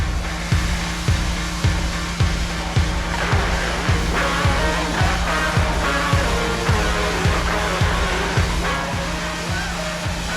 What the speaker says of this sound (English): We rented a hot water pressure washer.